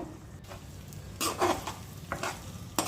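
Egg fried rice stir-frying in a generous amount of oil in a pan, with a steady low sizzle broken by several louder bursts of scraping and tossing, close by with no talk.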